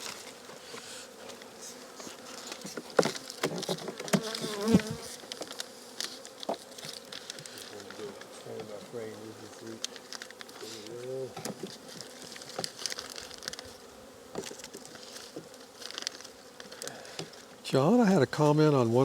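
Honey bees buzz steadily around an opened hive during a January inspection, a dense close drone with individual bees whining past, plus occasional handling knocks and crinkles.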